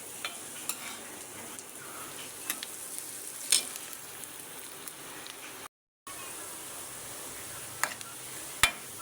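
Onions frying in a pan make a soft, continuous sizzle with scattered crackles and a few stirring clicks. The sound is fairly quiet and has a short silent gap near the end.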